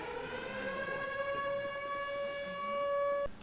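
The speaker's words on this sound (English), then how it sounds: "Then, emergency sirens sound." Emergency siren wailing as a steady tonal blare with strong harmonics, loud and sustained for several seconds before cutting off abruptly at the end.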